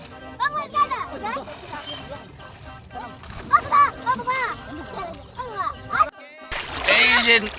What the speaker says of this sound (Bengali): পুকুরের মধ্যে স্নান করতে চলে আসছি